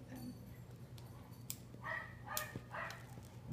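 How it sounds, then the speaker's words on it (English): A dog barks a few times in the distance, faint under a steady low hum. "barking in the background."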